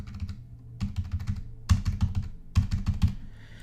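A credit card number typed on a computer keyboard: close, crisp key clicks in short quick bursts separated by brief pauses, with no talking.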